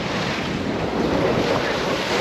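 Ocean water rushes and splashes steadily against the bow of a 51-foot sailboat moving at about 8 knots, loud and close, mixed with heavy wind noise buffeting the microphone.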